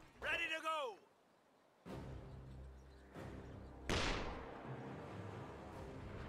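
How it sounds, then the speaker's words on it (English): Heavy artillery booms in a World War II battle in the strategy game Company of Heroes 2, several deep blasts spaced a second or two apart with rumbling tails, following a brief synthetic whine at the start. "Like firing a barrage."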